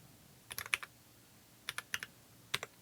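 Quick bursts of keyboard typing on a Kindle Fire tablet setup, light clicky keystrokes in short clusters, close and quiet with no talking.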